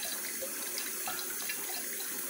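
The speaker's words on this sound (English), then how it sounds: "I get it turned down real low so the water will run through the plates in the" A Kangen water ionizer machine turned down low, with water trickling slowly through its plates as a steady, soft, continuous running-water hiss, close and faint, with no talking.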